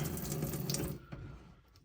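Water runs from the kitchen sink tap of a 2007 Hobby 610 UL Prestige caravan, a steady close hiss and splash that cuts off abruptly partway through, leaving a quiet room.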